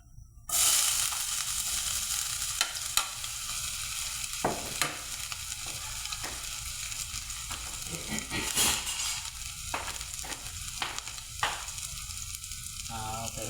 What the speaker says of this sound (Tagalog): Unahin natin ang loya para maluto.